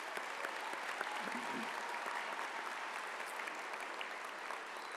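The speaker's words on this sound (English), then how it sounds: "let's give everyone a round of applause" Graduation ceremony audience applauding steadily throughout, a dense, sustained wash of many hands clapping at a moderate distance with no break in intensity.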